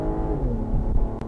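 Turbocharged 281-horsepower engine of a 2010 Volvo XC60 T6 pulling hard on a freeway, a brief rising drone heard from inside the car.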